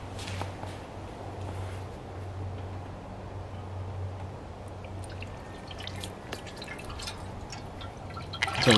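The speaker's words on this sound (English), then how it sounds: "You should have poured the coolant in this way." Coolant trickles and glugs faintly and steadily into the cooling system of an FG turbo car during an engine-bay service, with a few small clanks near the end.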